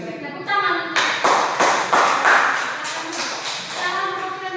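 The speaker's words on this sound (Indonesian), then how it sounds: "tepuk tangan" A classroom of elementary pupils claps hands in a quick burst of many near, irregular slaps that rise and then fade, with children's voices mixed in underneath.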